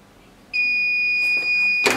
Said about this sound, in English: After finish timing, it will alarm.